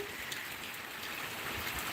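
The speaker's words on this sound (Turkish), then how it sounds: "Şöyle çok güzel yağmur yağıyor." Steady, dense rain pours down on a village without a break, a loud even hiss of drops hitting surfaces all around.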